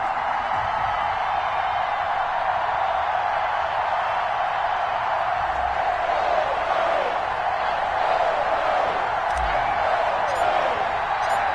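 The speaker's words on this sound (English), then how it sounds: "This crowd is ready as their guys get set to match up between the Washington football team and the New York Giants." A stadium crowd at an NFL game between Washington and the New York Giants keeps up a steady, broad roar throughout, dense and sustained without distinct peaks.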